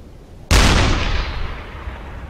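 A single loud boom from a U-boat deck gun fired at a ship in the game Uboat, striking sharply after a half-second of quiet, then a long rumbling decay trailing off.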